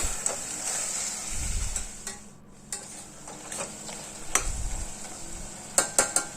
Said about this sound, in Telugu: ఇలా మటన్ని మధ్య మధ్యలో కలుపుకుంటూ ఫైవ్ మినిట్స్ పాటు మనం దీన్ని కుక్ చేసుకోవాలి